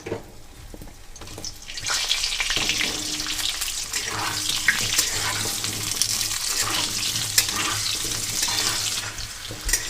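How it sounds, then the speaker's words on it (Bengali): Cut potatoes hit hot oil with cumin in a pan, a steady loud sizzle that swells after the first two seconds and keeps crackling with small pops and scrapes, no voices. "এই পর্যায়ে আমি এখানে কেটে রাখা আলুগুলো দিয়ে দেবো"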